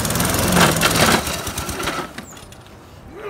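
A push lawn mower runs close by, its engine drone loud and steady for the first two seconds, then easing off and dropping back to a quieter running note.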